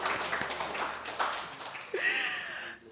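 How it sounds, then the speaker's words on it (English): Audience clapping at a town hall meeting on Montserrat's port development project: scattered taps give way to a brief burst of applause, with faint voices in the room. "I know you all clapped already, but can we clap again?"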